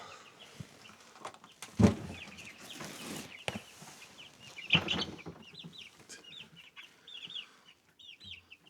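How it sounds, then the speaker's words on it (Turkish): Several plump village meat chickens cluck and chatter close by in a coop, in an uneven scatter, with a few louder squawks and some rustling between them. "Hepsi köy tavuğu, etli tavuk."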